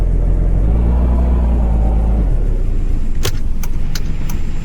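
Car engine rumbling steadily up close in a Polish car-driving video game, a low drone that eases off partway through, followed by a few sharp clicks or jangles near the end.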